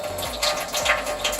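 Kitchen sink tap running at reduced flow beside a garbage disposal, a steady close splashing and gushing stream with small surges and no voices.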